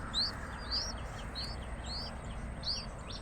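Cuckoo chicks begging for food at the nest, a series of five sharp, high rising chirps repeated about every half second over a steady low background hum.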